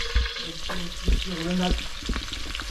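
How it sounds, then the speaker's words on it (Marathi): Onion fries in a pan over a village wood-fired stove, a close, steady sizzle broken by several spatula knocks and stirring scrapes. "कांदा भाजून घ्यायचा आहे मस्तपैकी"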